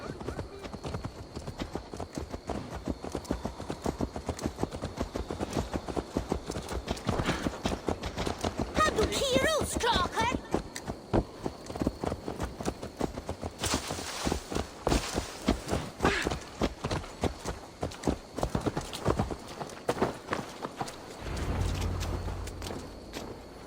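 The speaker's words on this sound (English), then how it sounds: "Let's return the horse." A horse in Assassin's Creed Valhalla clip-clops along in a steady, close rhythm of hoofbeats that runs for most of the stretch, with occasional voices over it.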